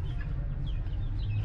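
Backyard chickens clucking on a small farm, soft overlapping calls over a steady low hum, no one talking.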